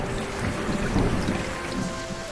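Steady rain pours near a riverside dock, a dense continuous hiss with a low thunder rumble swelling beneath it, and no voices.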